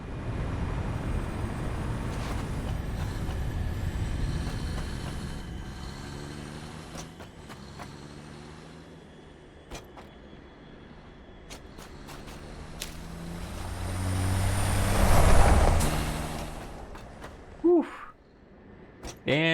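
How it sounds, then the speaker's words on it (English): Trucks drive in the factory-building game Satisfactory with a steady rumbling engine drone that swells loudest near the end, followed by a few sharp hissing bursts. "And those trucks are in a hurry."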